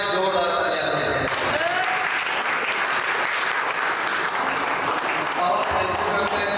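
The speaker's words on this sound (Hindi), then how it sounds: "और हम चाहेंगे जीएसआरसी संस्था के लिए एक बार जोरदार तालियां बजाएं।" A seminar audience in Dewa, Barabanki breaks into loud, sustained applause after a brief stretch of speech, dense clapping filling the hall for several seconds, with a voice heard over the start.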